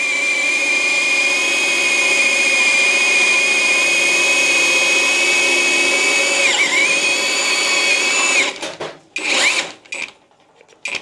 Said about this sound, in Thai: อันนี้เป็นโฮซอขนาด 25มิลลิเมตรนะครับก็เจาะได้แบบง่ายๆเลย